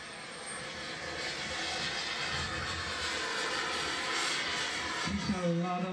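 Scale F-15 model jet with a turbine engine comes in to land at an RC jet turbine event in Markham Park, Florida, producing a steady, loud roar throughout with a rising tonal whine near the end.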